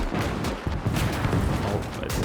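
A rapid-firing 45mm quad gun in the Winds of Iron video game mod, a dense roar of overlapping blasts with no gaps between shots, loud and continuous throughout.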